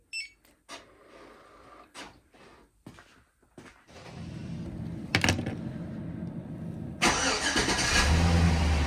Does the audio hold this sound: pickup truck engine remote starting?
yes